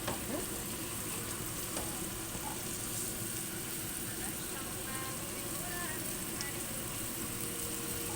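Onion, pepper, tomato and carrot sauté in a pan for vegetable pasta, giving a steady, close, dense sizzle and crackle that runs unbroken from start to finish with faint stirring scrapes.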